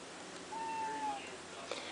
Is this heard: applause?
no